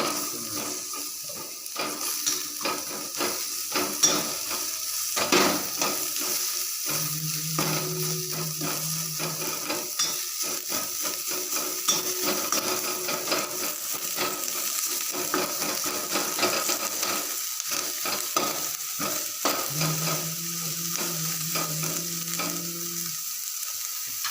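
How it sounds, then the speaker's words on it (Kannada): Onions fry and are stirred in a pan while chicken manchurian is being cooked, giving a steady close sizzle broken by frequent scraping and clinking of the spatula against the pan. "ಈರುಳ್ಳಿ ಒಳ್ಳೆ ಚೆನ್ನಾಗಿ ಕಲರ್ ಬರಬೇಕು, ಆ ಥರ ಮಿಕ್ಸ್ ಮಾಡಬೇಕು."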